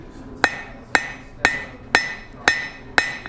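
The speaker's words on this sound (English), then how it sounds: "Hammer that back flat." A hammer strikes a steel bar on an anvil while forging a drift, six sharp ringing blows in an even, steady rhythm, close and loud with no voices.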